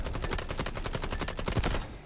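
Rapid automatic gunfire from an AUG rifle in the shooter game Delta Force, a dense unbroken stream of sharp close shots lasting about two seconds with a louder burst at the very end.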